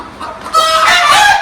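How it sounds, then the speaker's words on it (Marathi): Hens cluck continuously in a poultry shed bedded with husk, including a broody hen near a clutch of eggs. The clucking is close and grows louder and busier partway through, with no talk over it. "ही खालची जी कोंबडी आता आहे बघ"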